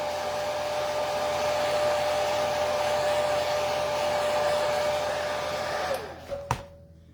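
Hair dryer blowing steadily on acrylic decoupage sealer on an egg, a loud continuous whir with a high whine that cuts off near the end, leaving brief handling clicks.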